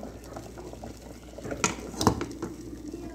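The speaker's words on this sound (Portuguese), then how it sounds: "o feijãozinho tá fervendo aqui" A pot of beans boils on a wood-fired stove, soft low bubbling with a few sharper pops and gurgles, quiet and close.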